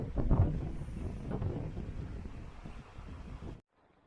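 Wind gusts over the Gaumukh trek valley near Bhojbasa, a steady broadband rush with stronger buffeting at the start, fairly close and loud, then cutting off abruptly near the end.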